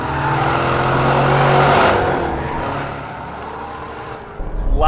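Corvette engine through a Borla S-Type exhaust at the Bondurant School: a loud, steady exhaust drone that swells as the car passes, then fades and settles as it moves away.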